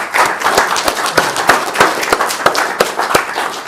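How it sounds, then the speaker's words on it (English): An audience at a club meeting in an RSL hall claps to welcome a guest forward, a few dozen sharp, scattered hand claps sounding close and uneven rather than as a dense roar. "Give him a clap and invite him here."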